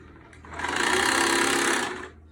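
Sewing machine stitching a dress in one continuous close whirring run of about a second and a half that spins up and winds down, no talk.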